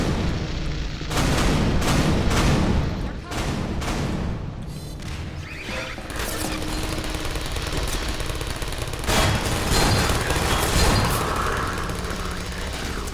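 Turret gunfire and explosions in Half-Life 2, a continuous loud din of rapid automatic fire with heavy booms and crashing impacts layered throughout, sustained and dense with no letup.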